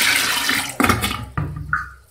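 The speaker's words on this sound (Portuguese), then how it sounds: "aí agora eu vou lascar a água" Water tossed from a bucket onto a dirty bathroom floor while cleaning, a close splash and rush of liquid followed by two more sharp splashes and trickling.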